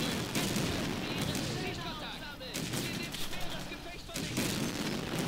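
Artillery and tank guns in the WWII strategy game Blitzkrieg 2 fire in rolling, overlapping booms and crackles, with several distinct heavy blasts spaced across a steady battle din.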